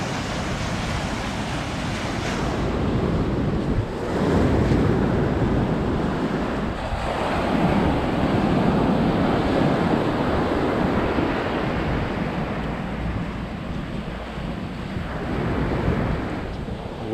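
Surf rolls continuously onto Candolim beach in Goa, a broad, steady wash of breaking waves mixed with wind buffeting the microphone, close and fairly loud with no talking.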